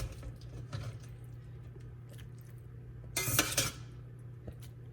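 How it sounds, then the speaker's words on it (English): Utensil scraping and clinking in a pan as escarole is stirred for Utica greens, a quiet low hum underneath with a brief louder burst of metallic scraping midway, close and otherwise faint, no voices. "you put the escrow into the dish and you just stir it around"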